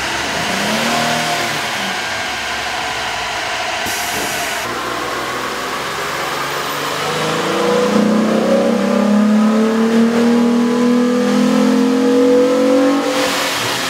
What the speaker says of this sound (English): With the air intake installed, we ran the vehicle on the dyno to test the sound comparison versus the stock intake.